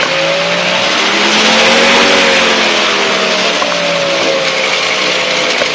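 A Challenger II ultralight aircraft engine throttles up, a loud, steady buzzing drone with rising and slightly wavering pitch that fills the whole stretch without pause.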